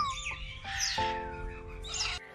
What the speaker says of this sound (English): I have got one bird in particular, Tula.